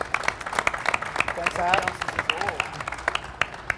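An indoor audience at a winter market industry forum applauds steadily, scattered claps ringing close while someone briefly speaks over the clapping.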